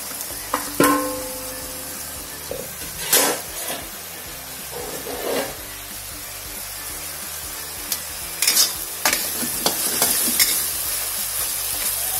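Beef stir-fry sizzles in a covered pan, a steady close frying hiss broken by several sharp bursts and clatters of stirring, with no voices.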